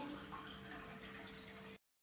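Water pouring from a tap into a drinking glass, a faint continuous trickling stream that runs steadily and then cuts off abruptly, with no talk.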